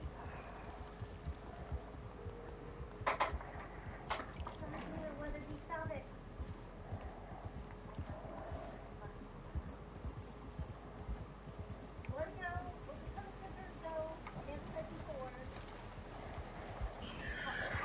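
In the video game Red Dead Online, hooves clip-clop steadily while a horse whinnies and neighs a few times, with a low hum underneath and occasional faint sounds throughout.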